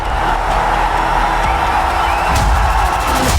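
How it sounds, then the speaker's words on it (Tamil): A dense, continuous roar of crowd cheering at a political rally, loud and steady, with the massed voices blending into a broad wash of noise and no individual speech standing out. "எழுச்சி ஆரவாரம்"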